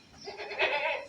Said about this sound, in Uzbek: Bitta echki ham bor ekan.